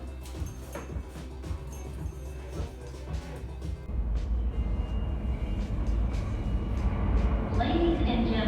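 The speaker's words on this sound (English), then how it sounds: "the next L train is now arriving on the Manhattan bound track" A New York subway L train pulls into a Manhattan-bound platform; its low rumble swells and grows louder toward the end, and people talk nearby.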